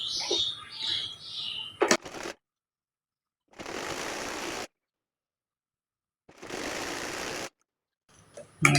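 A sewing machine stitching the folded sleeve hem of a collared blouse, running in short bursts of about a second each separated by silences, with a soft voice and handling noise at the start.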